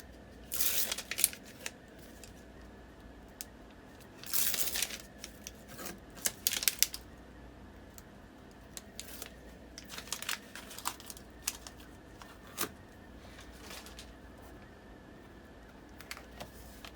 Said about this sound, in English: If I can get the backing off my score tape here